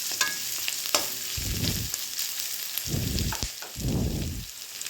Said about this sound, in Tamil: நல்லா ஒரு 5 நிமிஷம் நல்லா வதக்கிக்கலாம்.